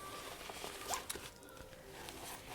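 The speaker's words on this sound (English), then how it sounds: "It has a zipper here," A zipper on a battery organizer case being pulled open, a faint quick rasp with a light click in a quiet room.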